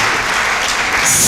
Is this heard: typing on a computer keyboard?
no